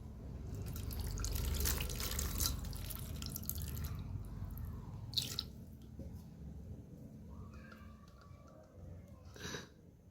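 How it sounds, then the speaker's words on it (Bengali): Water mixed with Yamuna water poured over a Krishna idol during ritual bathing, a close, continuous splashing trickle that thins to scattered drips and small splashes, with no speech. "দেখেন ওখান ভগবান শ্রীকৃষ্ণরে আমি অভিষেক করাইতেছি"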